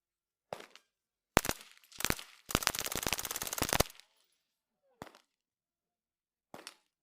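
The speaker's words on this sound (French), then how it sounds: "Voici Brandon Herrera qui les tire en rafale, et ils encaissèrent les balles toute la journée" Automatic firearms fired in bursts at a gun show, heard as sharp isolated shots followed by a long rapid burst of gunfire, then a few more single shots, loud and close with echoing decay.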